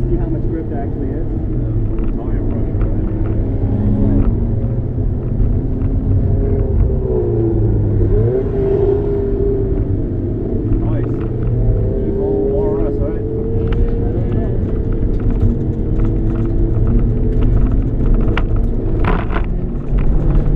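A Honda S2000 (AP1) engine rumbles steadily throughout, with occasional revving swells as it drives along the Englishtown road course during an open track session.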